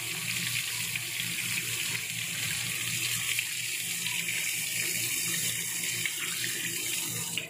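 Cleaned sardines being washed under a running tap, a steady close hiss and splash of flowing water over a sink that holds constant throughout.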